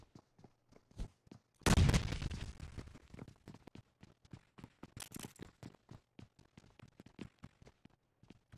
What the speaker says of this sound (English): the nades are falling considerably short of their mark